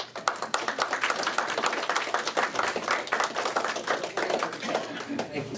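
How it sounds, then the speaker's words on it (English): An indoor audience claps after a geology talk, giving a dense run of steady applause at moderate level from start to finish. "I think Rod's due another round of applause here tonight"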